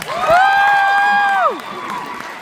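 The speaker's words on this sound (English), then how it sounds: "Another round of applause." A youth conference crowd cheers a guest speaker: one loud, drawn-out whooping shout rises and then slides down, over a bed of clapping and crowd noise that carries on more softly afterward.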